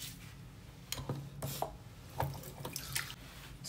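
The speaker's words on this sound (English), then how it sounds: "I'm going to wash my hands." Warm tap water runs into a sink during handwashing, a soft splashing trickle broken by a few louder drips and hand splashes, close and fairly quiet with no talking.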